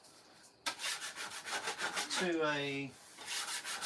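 A scraper rasps repeatedly across a sticky residue on a surface, close and fairly loud in short rough strokes, with a longer squealing drag in the middle and a brief voice fragment near the start.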